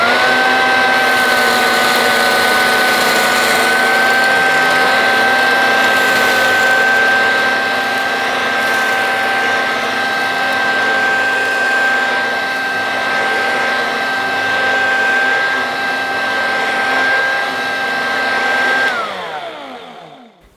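A Dirt Devil Handy Zip handheld vacuum cleaner sucks up loose oats, running as a steady close whine with a constant high motor tone for about nineteen seconds before it powers down.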